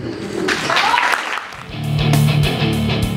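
An audience at a rock music awards ceremony in Peru claps briefly, a dense burst of applause that swells, dips and swells again and ends with a few louder hits.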